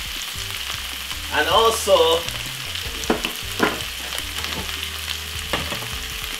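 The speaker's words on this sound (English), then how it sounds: "Give it a lovely stir." Corned beef and cabbage sizzle in a hot pan as a spoon stirs through them, scraping and clinking in short bursts over a steady fry, with a brief spoken word near the start.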